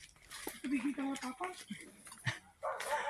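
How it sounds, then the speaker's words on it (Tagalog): A dog barks in a rural hillside neighbourhood, several barks mixed with close conversation and outdoor background noise. "yung may tumatahol na aso"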